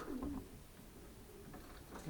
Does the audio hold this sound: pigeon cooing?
yes